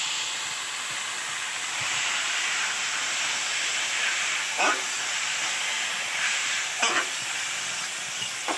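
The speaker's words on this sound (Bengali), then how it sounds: "এবার সিদ্ধ করা শশা আলু দিয়ে দিলাম এবারে দিয়ে এটা একসঙ্গে ভালো করে একটু মেরে নেবো" Boiled cucumber and potato are mashed together with fried prawns in a hot pan, giving a constant loud sizzle and hiss broken by a few sharp spoon knocks against the pan.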